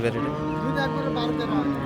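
A cow moos close by in a long, drawn-out low call at a cattle market where Friesian dairy cows with calves are sold, with faint voices in the background.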